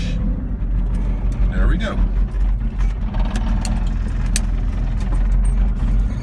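Small manual car with four gears pulling away in first gear, a low steady engine hum and rumble running beneath someone talking close by.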